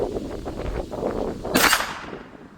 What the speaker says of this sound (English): Let's try another shot. See if the chronograph will pick this up.